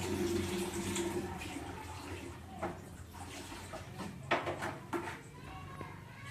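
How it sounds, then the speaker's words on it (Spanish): Water runs through a siphon tube from one container into a second, giving a steady soft trickle with a few small splashes and clinks near the end, fairly quiet and close. "empieza a fluir el agua del recipiente 1 al recipiente 2 y este es básicamente el principio de funcionamiento del sifón"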